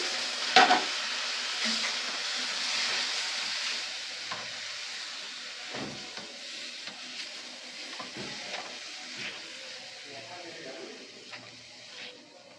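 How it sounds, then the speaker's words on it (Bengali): Crab masala and ground spices, turmeric, cumin and coriander, being stir-fried in a pan, a soft continuous sizzle with occasional scraping stirs, faint and close, under quiet speech. "সব মশলাগুলোকে একটু কষিয়ে নেব।"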